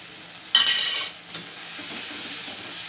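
Tomato with turmeric, chilli powder, cumin and coriander powder frying in a pan as masala, a loud sizzle bursting up as spices hit the oil, then a second burst and steady crackling frying with no talk.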